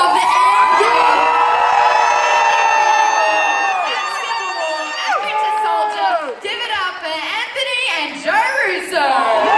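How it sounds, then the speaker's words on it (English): A large standing audience cheers, whoops and shouts loudly for the directors of Avengers: Endgame, a sustained roar of voices that surges and fades in waves. "so the biggest round of applause for the directors of Endgame"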